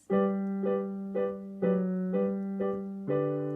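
A piano plays a simple, even phrase with both hands together, low notes held beneath a gentle melody of about seven notes, alone and fairly soft.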